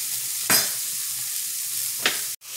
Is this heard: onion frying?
yes